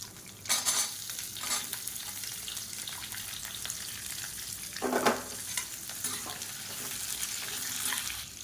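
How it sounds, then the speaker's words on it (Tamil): Long-cut onions fry in oil with chana dal and urad dal for a South Indian side dish, a soft steady sizzle with a few stirring scrapes and one louder burst midway. "இப்போ இதில் மீடியம் சைஸாக பெரிய வெங்காயம் நீளமாக கட் பண்ணதை சேர்த்துக்கலாம்."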